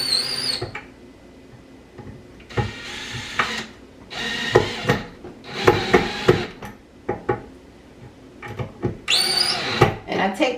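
Screws are driven into cabinet handles in short, intermittent bursts of whirring and grinding with small clicks and gaps between, while someone speaks at times.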